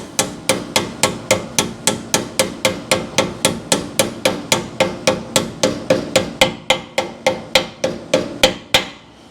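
Steady, evenly spaced hammer blows ring out one after another, sharp and loud, about three strikes per second, with no voices, as a part is hammered into a 1966 Chevrolet Biscayne.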